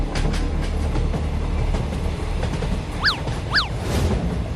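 A passing train rumbles loudly and continuously, with rhythmic clicking of wheels over rail joints and a couple of brief high squeals near the end.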